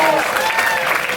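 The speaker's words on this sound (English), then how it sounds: "A round of applause for John Hodgman." An audience bursts into loud, close applause for comedian John Hodgman, a brief dense patter of clapping from a crowd.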